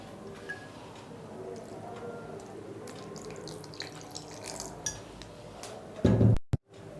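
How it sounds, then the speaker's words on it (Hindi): Raw chicken being mixed with ginger-garlic paste and a little water in a bowl, quiet wet squishing and faint clinks, closing with a few louder knocks and a thump close by. "अब हम इसे मिक्स कर लेंगे।"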